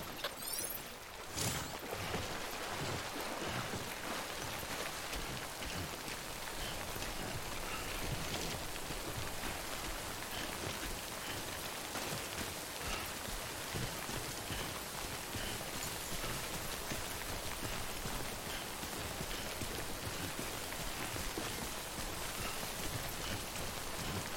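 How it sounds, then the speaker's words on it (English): Steady rain, the timefall of the Death Stranding video game, falls evenly and fairly loud for the whole stretch with no pauses, close and continuous, and no voices over it. "Don't stay out in the rain any longer than you have to."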